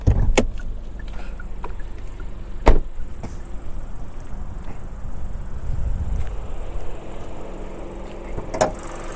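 A Hyundai Kona's hood, held up by a gas strut, opens with a sharp latch clunk partway through and another knock near the end, over a low, steady outdoor rumble.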